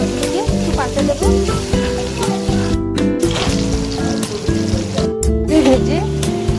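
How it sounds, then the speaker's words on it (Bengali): Fish pieces coated in Kashmiri chilli powder frying in hot oil, a dense continuous crackling sizzle with stirring and occasional spatula clinks, accompanied by background music. "এখন এক এক করে মাছগুলি ভেজে নেব"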